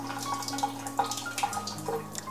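Water flows and drips through a water ionizer as it is flushed during descaling, a close, continuous trickle with irregular droplet splashes and a low steady hum underneath.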